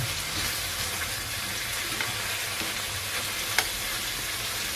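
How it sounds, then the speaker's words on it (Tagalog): Mixed vegetables and milkfish sizzle in a frying pan as they are stirred, a close, continuous frying hiss with a faint utensil clink, no voices. "Haluin natin yan."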